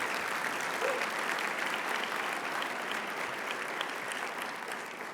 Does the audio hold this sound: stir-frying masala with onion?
no